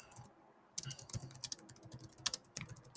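Rapid, close-up clicking keystrokes on a computer keyboard come in uneven bursts after a brief pause, typing text into an editor with no talking.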